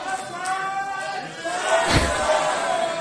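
A wrestling crowd at a Power Slam Wrestling event jeers and shouts at a heavyweight wrestler, a noisy mass of voices swelling midway, with a heavy slam or thud around the peak.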